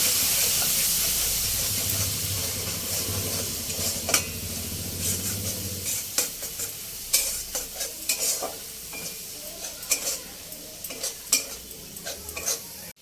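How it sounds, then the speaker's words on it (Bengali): Spice paste cooking down with a splash of water in a pan for a pointed gourd and egg dish: a loud hissing sizzle at first that eases into repeated scraping and clinking stirs over a softer crackle. "সামান্য একটু জল দিয়ে মশলাটা কষিয়ে নেব।"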